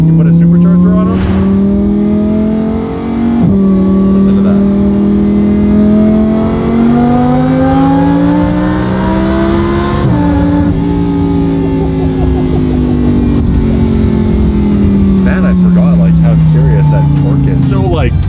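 A supercharged Lamborghini Huracan engine revs loudly and close, its pitch sweeping up and down through several sustained rises as it accelerates.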